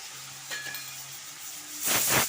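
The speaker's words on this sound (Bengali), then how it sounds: "আলুটাকে আমি ভেজে নেব" Small-cut potato pieces frying in oil give a faint, low sizzle and hiss with a light clink early on, then a louder burst of crackling near the end.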